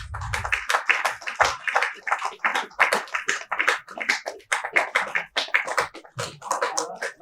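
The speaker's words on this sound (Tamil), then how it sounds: "ஒரு பெரிய கைத்தட்டலோட" Audience clapping at a Tamil film success meet, a steady run of claps for about seven seconds that briefly comes close to speech in places.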